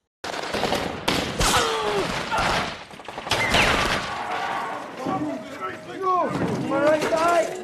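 Gunfire in a war film: rapid bursts of shots and crackling fire mixed with shouting voices and battle noise, loud and close throughout.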